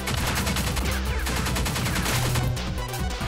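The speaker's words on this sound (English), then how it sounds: "Machine gun!" Rapid machine gun fire from the twin-stick shooter Pineapple Smash Crew, a loud, dense continuous stream of shots with explosive game effects layered over it.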